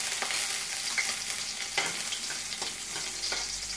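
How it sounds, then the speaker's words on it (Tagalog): Garlic sautés in hot oil with a steady bright sizzle, while a utensil stirs and scrapes the pan at irregular intervals, close up and with no talk. "Gigisa lang natin ang ating bawang"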